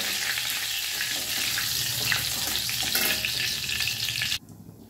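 Bay leaf, dried red chilli and panch phoron spices frying in hot oil give a steady, dense sizzle that runs close and loud before cutting off abruptly near the end, leaving only a faint hiss.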